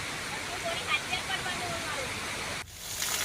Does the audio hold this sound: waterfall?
yes